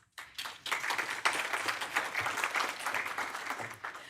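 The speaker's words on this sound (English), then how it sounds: "Let's give a round of applause." Conference audience at the Rīga Conference bursts into applause after a brief quiet moment, a full, sustained round of clapping from many people in a hall.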